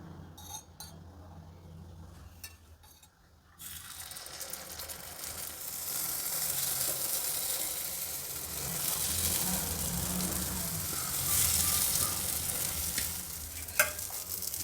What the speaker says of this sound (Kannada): ಪಡ್ಡು ತವ ಬಿಸಿಯಾಗಿದೆ. ಮೊದಲಿಗೆ ಎಲ್ಲ ಕುಳಿಗಳಿಗೂ ಸ್ವಲ್ಪ ಎಣ್ಣೆ ಹಾಕ್ತೀನಿ.